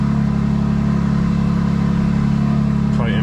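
A BMW M2 G87 with an M2CS tune idles loud and close in M1 mode, a deep steady engine drone with strong low harmonics and a short rev at the end.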